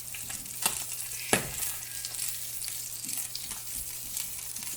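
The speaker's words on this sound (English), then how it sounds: "Stir that up a little bit." Vegetables and fish frying together in a pan, a soft sizzle with occasional clinks and scrapes of a stirring utensil, quiet and close, no talking.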